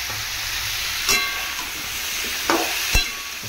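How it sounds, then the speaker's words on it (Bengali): Turmeric is stirred in a hot pan, giving a steady sizzling hiss with three sharper scrapes or taps of the utensil against the pan, close and fairly quiet. "ভালো করে নাড়িয়ে নিচ্ছি।"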